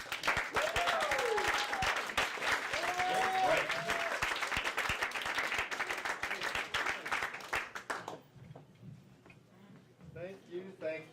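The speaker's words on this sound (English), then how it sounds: "round of applause" Audience at Gotham Comedy Club in New York applauds in a dense, steady burst of clapping with a few whoops, lasting about eight seconds before cutting off into near quiet.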